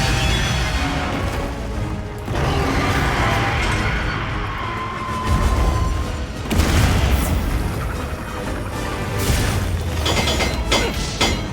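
Repeated booming explosions from the Monster Hunter Wilds video game, loud and dense, with several heavy crashing bursts over a continuous rumbling battle din and no talk.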